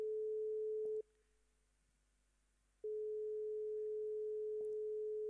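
A steady electronic sine tone sounds alone, cut off for about two seconds and then resumed at the same pitch, with faint clicks near the breaks.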